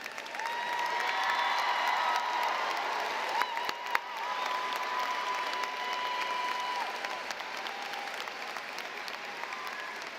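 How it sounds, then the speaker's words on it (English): An audience at a college graduation ceremony gives sustained applause, a dense, even clatter of many hands filling a large hall, with faint voices and cheers mixed in. "please rise for a round of applause"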